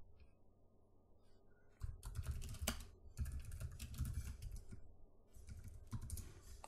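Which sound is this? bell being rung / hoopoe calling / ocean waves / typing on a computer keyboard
typing on a computer keyboard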